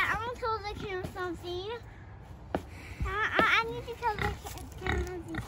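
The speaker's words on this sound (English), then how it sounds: "Let's see if we can get these pigs." Pigs being loaded onto a trailer squeal and grunt in repeated high, wavering cries, close and loud, with people talking among them.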